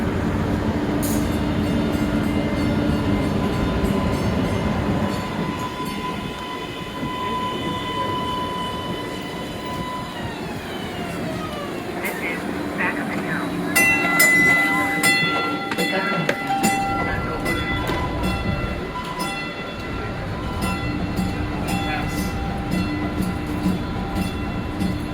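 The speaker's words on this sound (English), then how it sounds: "right here we can see another train heading to East Street" A train rolls through a rail station, loud and close, with a steady rumble, clattering wheels and squealing metallic screeches as it slows, and a few voices in the background.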